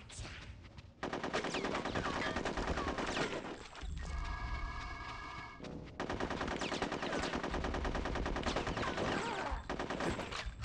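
Rapid bursts of video game gunfire from Conker's Bad Fur Day, loud machine-gun style volleys in two long stretches broken by a brief pause with a steady tonal game sound.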